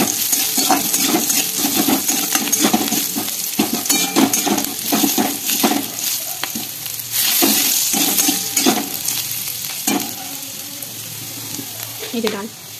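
Dal and onions fry in a pan with a steady sizzle, while a utensil stirs and scrapes the pan in frequent clinks, close up, and a voice is heard in the background.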